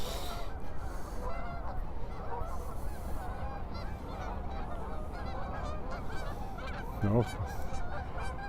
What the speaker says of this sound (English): Geese taking off from the water there.